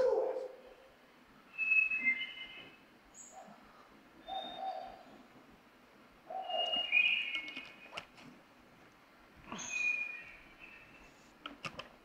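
A hermit thrush sings in a quiet Arizona wood, clear fluting phrases repeated every few seconds, faint and somewhat distant, with a few clicks between.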